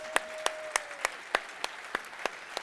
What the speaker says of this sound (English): one more round of applause for all of our Awesome Chef Award winners